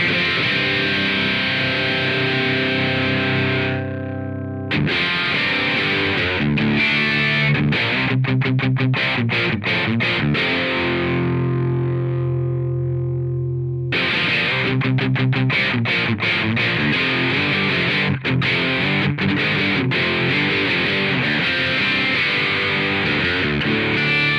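An electric guitar through a DS-1-style distortion pedal, modelled in AmpliTube 5 software, plays crunchy chords and a run of quick picked notes, loud and sustained, with no talking.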